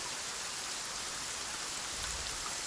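Rain falls in the war video game Call to Arms, a dense, even hiss of steady downpour that fills the whole stretch without pause, with no voices over it.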